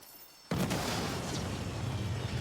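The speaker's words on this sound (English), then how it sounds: "We should probably get out of here before our bomb blows up." A bomb explodes in the video game Saints Row: a sudden loud blast after a quiet moment, followed by a sustained roaring rumble with crackling debris.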